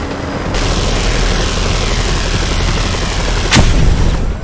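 Broadband roar of helicopter rotors and engine in Just Cause 2, steady and loud throughout with a sharp burst near the end, no talk.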